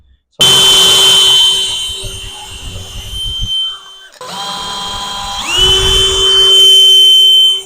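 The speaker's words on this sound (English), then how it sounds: "I'm just screwing it down, and this will allow the wood to move." A power drill drives screws into the top of a redwood burl shadow box, two steady whining bursts with a short pause between them and a rising pitch as the second run starts, close and loud.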